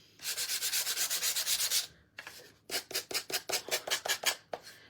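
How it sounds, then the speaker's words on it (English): Rhythmic back-and-forth scratching of sandpaper on wood, a fast run of strokes, a brief pause, then another series of firm rasping passes, close up. "Should we do a little bit more sanding"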